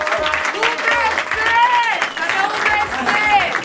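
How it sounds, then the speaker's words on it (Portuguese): Crowd at a Trilha Sonora do Gueto show in Santo André applauding and cheering a rap performer, loud and continuous with shouting voices over the clapping. "vamos aplaudir o mano representando vocês"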